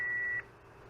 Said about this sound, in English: I reprogrammed or reconfigured a Roger beep to sound like an old Superstar Roger beep.